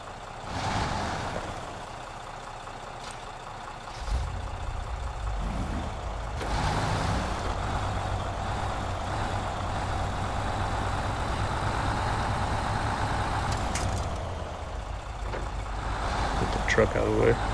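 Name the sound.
truck engine towing a Jeep out of mud in the video game Snowrunner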